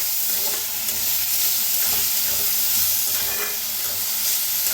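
Moong dal roasting in a pan with green masala, a steady dense sizzle and hiss with faint stirring scrapes, close and continuous with no talking.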